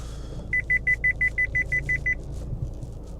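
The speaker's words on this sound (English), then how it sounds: "just wait till that beeping stops" A rapid run of about ten evenly spaced electronic beeps sounds over a low rumbling background near a car, then stops, leaving the rumble alone.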